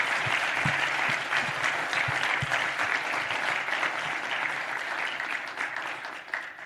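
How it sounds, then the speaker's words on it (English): Audience applause fills a panel discussion hall at a C.J. Box symposium, a steady sustained clatter of many hands clapping close and loud for several seconds before tapering slightly at the end. "Can we just get a big round of applause for them?"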